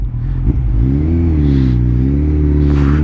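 A 2013 Kawasaki ZX14-R motorcycle engine revs loud and close, its pitch climbing and settling in steady harmonic bands, with a brief clatter near the start and no talking.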